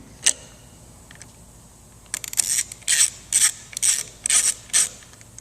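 A Torx bit tightens clamshell screws on a 2015-or-newer Harley-Davidson Road Glide, giving one sharp click and then a quick series of short ratcheting bursts, close and crisp over a quiet background.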